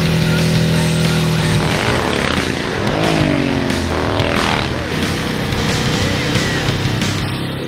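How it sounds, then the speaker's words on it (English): Arch motorcycle with a racing engine and dual exhaust, heard in Cyberpunk 2077: a steady loud engine drone with rising and falling revs, the pitch sweeping up and down through the middle of the clip. "It has a sort of a racing engine in it compared to our production motorcycles. It has a dual exhaust system."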